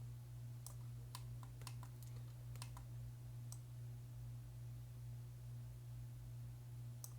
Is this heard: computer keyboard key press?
yes